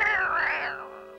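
A cartoon cat gives a single drawn-out meow, clear and close, fading at the end.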